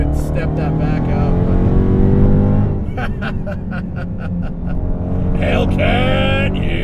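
A modified Dodge Charger Hellcat revs and roars on a track, its engine note rising and falling under throttle through corners, loud and close from inside the car, with voices talking over it.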